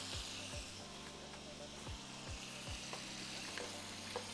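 Chicken thighs and potatoes in a pot with lemon juice, heat switched off, being stirred and tossed: a steady sizzle with repeated scraping strokes at an even rhythm, fairly faint and close, with no talk.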